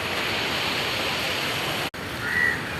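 Sea waves washing onto the shore after rain, a steady broad rushing wash that stays loud and continuous, with a short break near the end and a faint tonal whine.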